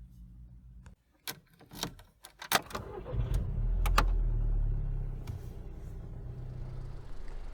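A door clunks and keys jingle, then a Mk5 Golf GTI's 2-litre turbocharged petrol engine cranks and starts, settling into a low steady idle rumble nearby that sounds a bit like a diesel.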